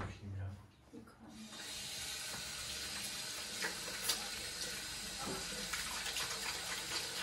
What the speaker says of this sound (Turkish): Ellerimi yıkayayım ya.